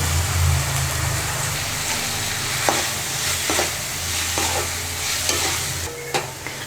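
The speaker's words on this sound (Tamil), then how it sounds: "சிக்கனை நல்லா எண்ணெயிலே ஒரு 5லேருந்து 6 நிமிஷம் நான் நல்லா குக் பண்ணிட்டேன்" Chicken pieces frying in oil with turmeric and garam masala, a steady close sizzle with a low hum underneath and a few scattered stirring scrapes.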